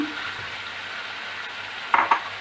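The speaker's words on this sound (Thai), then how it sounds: "พอผัดหมูได้ที่เราก็ใส่เห็ดหอม" Pork belly and shiitake mushrooms are stir-fried in a pan with a soft continuous sizzle, then two sharp, close clinks of a utensil against the pan near the end, with no voices.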